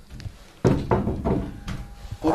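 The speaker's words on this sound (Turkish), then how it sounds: "Vur abi kapıyı bak." Several heavy knocks and thuds on a door inside an old mansion, landing in an uneven sequence of close, loud blows with short gaps.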